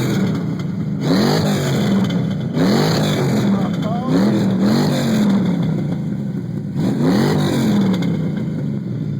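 A car with Flowmaster exhaust, around 375 horsepower at the rear wheels, revs in several loud, rising bursts close by, with excited shouting voices over the engine.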